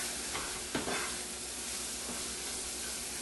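Pepper, onion, garlic and cinnamon sautéing in a pan, with a soft, steady sizzle and hiss, a brief stir or clatter near the start, then continuous frying alone.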